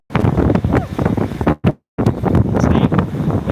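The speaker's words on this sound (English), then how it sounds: "And it is windy out here" Strong wind gusts buffet a microphone outdoors, a steady broadband roar that drops out briefly in the middle before rushing back just as loud.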